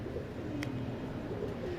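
A breeder's pigeon coos softly among other birds, low gentle murmuring calls with a couple of brief sharper chirps, heard close over a steady background hum.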